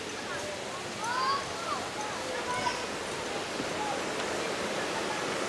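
The Daranak river flows near Batlag Falls in Tanay, Rizal, with a steady, close rush of water that fills the whole stretch, a few faint higher tones drifting over the constant wash.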